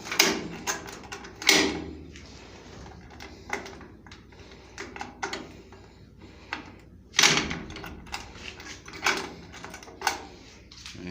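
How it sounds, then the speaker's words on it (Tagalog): Someone closes a door indoors: a series of sharp clunks and clicks, with two louder knocks standing out among quieter rattles. "sinarado ko yung pintuan"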